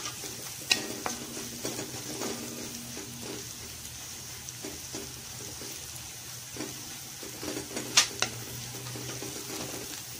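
Green chilies and curry leaves sautéing in a pan for an egg cutlet, a steady soft sizzle under repeated scraping stirs, with a few sharper clicks of a spoon against the pan and no talking.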